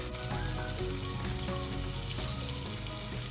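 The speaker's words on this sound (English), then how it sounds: "I'll be adding in 1 tablespoon of chopped garlic" Chopped garlic sizzles in hot oil for a bottle gourd and dried shrimp bhaji, a dense, steady crackling hiss close by with faint scraping, and a pitched hum running underneath, no speech.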